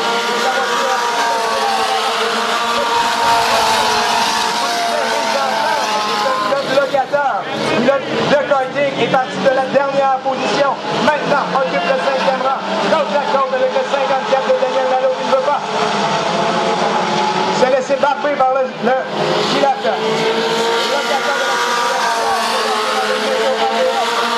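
Race cars run on a Granby oval track during a REVSTAR final, their engines droning and revving continuously at a distance while an announcer talks over the noise.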